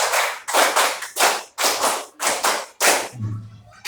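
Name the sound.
counted hand clapping pattern in classroom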